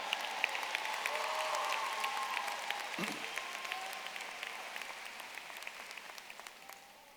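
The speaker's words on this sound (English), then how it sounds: "Let's give them another round of applause." Steady audience applause at a high school graduation ceremony, a dense wash of clapping that holds through the clip and slowly fades toward the end.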